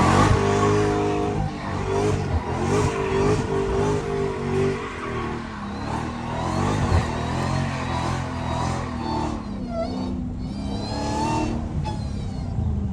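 A Dodge Hellcat slides through corners, its engine revving and surging while the tires squeal in drawn-out bursts, loud and close from inside the car, with brief background chatter.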